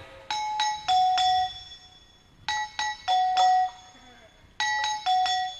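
An electronic doorbell chimes loudly and close in three bursts of two- and three-note ding-dong tones, with short pauses between them.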